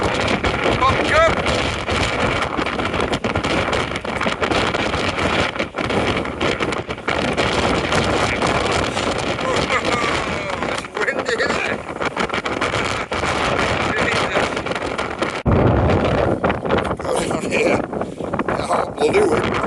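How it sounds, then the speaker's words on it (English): Strong wind buffets the microphone without letup during a walk across windy moorland between Todmorden and Blackstone Edge, a loud, roaring rumble lasting the whole stretch. Talking is partly buried beneath the gusts. "Bloody wind, bro."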